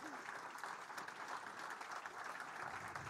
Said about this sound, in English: A round of applause, come on, so we can just warm our hands a little bit.